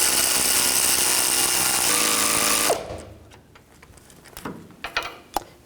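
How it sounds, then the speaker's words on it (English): A wrench tightens bolts on the lower control arm of a 2007-2014 GMC Sierra 3500 HD: a loud, steady, buzzing power-tool run for under three seconds, then stops, leaving scattered light metallic clicks and taps. "now just use your wrench and tighten these down"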